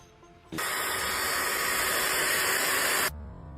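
A loud, continuous spray hiss at a construction site starts abruptly, holds steady for about two and a half seconds and then cuts off sharply, over faint background noise.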